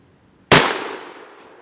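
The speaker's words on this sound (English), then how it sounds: "Holy moly, that thing's got some bang." An H&R 12 gauge survival shotgun fires a homemade black powder load outdoors: one sudden loud boom that fades over about a second, with no talking.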